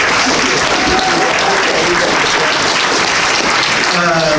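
Sustained, loud applause from a crowd at a Texas Republican primary candidate forum, a dense, even roar of clapping lasting throughout, with faint voices mixed in.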